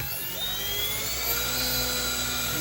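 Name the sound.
RC helicopter motor spinning up at 90% throttle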